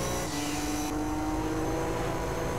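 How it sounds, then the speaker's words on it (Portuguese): Turbos of a Nissan Skyline R33 in Gran Turismo 3 whine steadily over a loud, continuous engine drone, with a high sustained tone running through the clip. "Só as turbinas cantando aqui."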